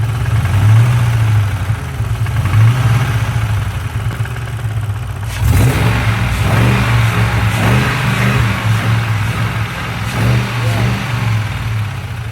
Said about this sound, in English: Yeah, rev a little bit.